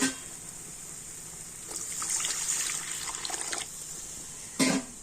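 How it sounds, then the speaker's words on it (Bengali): Hot water is poured into curry with spices cooking in a pan, heard as a soft trickling pour lasting a couple of seconds over background hiss, with a brief louder splash near the end. "এবার আমি এর মধ্যে দিয়ে দেব গরম জল"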